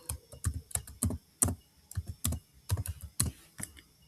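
Quick taps on a computer keyboard come as a close, quiet run of irregular clicks, like someone entering a short word into a spreadsheet, with no other sound around them.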